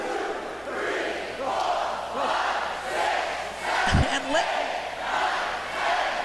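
A wrestling arena crowd chants and roars during a back-and-forth match, a loud massed swell of voices with a brief heavy thump near the middle.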